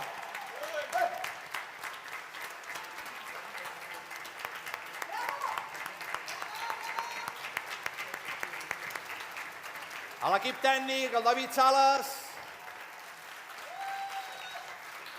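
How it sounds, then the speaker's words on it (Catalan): An audience at a musical applauds councillors and the technical crew, with continuous clapping running under someone speaking over a microphone and a louder surge near the end. "Un fort aplaudiment"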